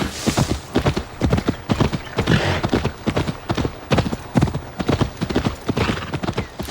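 Horse hooves clip-clop in a brisk, even rhythm in a video game, loud and close, repeating steadily throughout with no voices over them.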